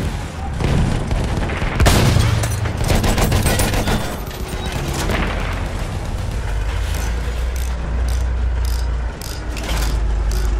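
Rapid machine gun fire rattles through a Battlefield 1 operations battle near an armored train, with sustained bursts of gunshots, heavy booms and a dense rumble of combat, loud and close.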